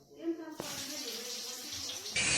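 Water pours from a tap into a container in a home, a soft steady rushing stream, with a brief voice at the start and a brighter splash near the end.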